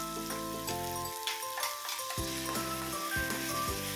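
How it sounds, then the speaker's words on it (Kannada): Onions frying in a pan for a mirchi chutney as a ground chili mixture is added, with a steady broadband sizzle and stirring scrapes, plus some tonal background music-like hum, no talking. "ಈರುಳ್ಳಿನ ಕೆಂಪಗಾಗೋದು ತನಕ ಹುರಿದ್ಬಿಟ್ಟು ನಂತರ ನಾವು ರುಬ್ಬಿಟ್ಕೊಂಡಿರೋ ಮಿಶ್ರಣನ ಇದಕ್ಕೆ ಆ್ಯಡ್ ಮಾಡ್ಕೋತಾ ಇದ್ದೀನಿ"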